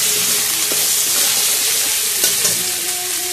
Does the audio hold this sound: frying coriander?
yes